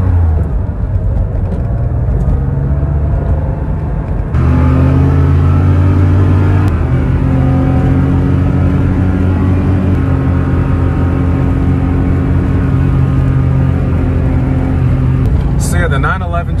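An air-cooled Porsche 911 cruises along a highway in the rain, its engine droning steadily with a deep rumble and shifting pitch as it accelerates, loud and continuous from inside the car.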